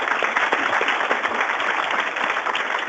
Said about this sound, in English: So can we have a round of applause for our panelists?